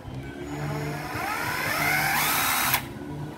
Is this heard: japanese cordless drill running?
yes